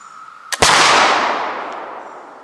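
English flintlock fowler loaded with 2F black powder firing one loud, sharp shot outdoors, preceded by a quick pan flash crack and followed by a long rolling echo that fades away.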